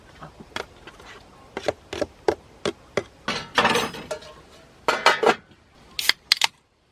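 Pots, metal utensils and dishes clank and clink in scattered bursts while nakgopsae stew is cooked at a rainy campsite in Inje, Gangwon; the sounds are close, with short quiet gaps and no talking.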